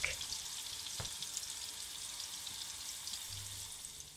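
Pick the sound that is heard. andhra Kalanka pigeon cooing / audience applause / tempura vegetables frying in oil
tempura vegetables frying in oil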